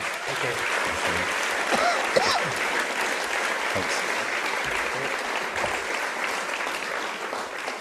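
Festival audience at a writers' event claps warmly for an author, a dense, even round of applause sustained throughout with a few voices and a whistle rising over it.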